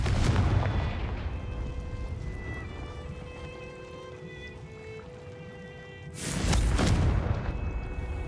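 An explosive fire spell is cast in the Hogwarts Legacy video game. A deep rumbling blast opens the clip and fades under a steady tonal background. A second loud, broad burst erupts near the end.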